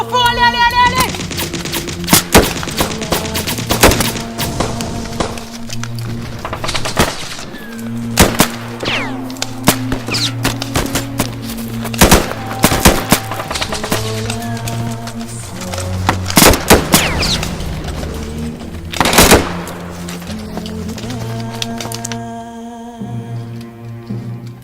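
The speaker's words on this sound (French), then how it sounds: "Des coups de feu." Gunfire and machine gun shots crackle in sharp bursts and scattered single cracks over a dense, loud backdrop of music and rumbling tones, continuing for many seconds.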